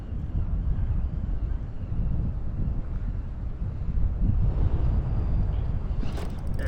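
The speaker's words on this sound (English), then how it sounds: "the wind has picked up here." Wind on a river buffets the microphone in a steady, loud rumbling roar with no break, out on the water in a small kayak.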